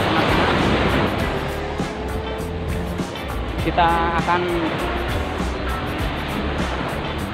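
Big ocean waves roar steadily at Pasir Putih beach, a bay in Trenggalek on the south coast, as a loud continuous surf wash. Someone talks briefly over it.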